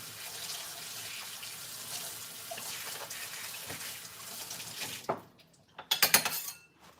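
Tap water runs steadily into a kitchen sink while chocolate-coated utensils are washed, then the flow stops and metal clinks and clatters against dishes nearby, with no talking.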